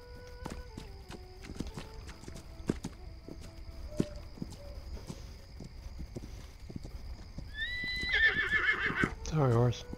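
Hooves clop in scattered steps, then a horse in a video game lets out a loud, shrill whinny near the end, with a faint voice in the background.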